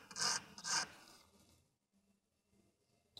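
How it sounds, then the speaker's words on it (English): The ends of a metal ring are dressed with a file before curling: two short, close rasping strokes, then near silence. "file it over here while I've got the opportunity to dress the ends before it's curled around"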